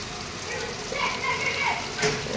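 A heavy downpour drums outside a house in Khed, Konkan, a steady, moderately loud hiss of rain that swells slightly and stays constant throughout.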